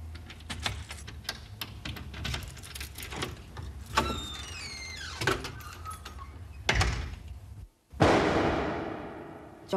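A door opens in a dramatized reconstruction of a shooting in a residential block, with clicks, rattles and a sliding scrape spread over several seconds, then a brief silence and a louder rush of sound.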